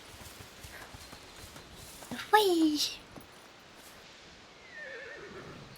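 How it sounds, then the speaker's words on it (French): In the video game A Plague Tale: Requiem, horses give one clear whinny rising and falling over soft background ambience, with faint hoof sounds and a brief voice nearby. "Ah, les chevaux."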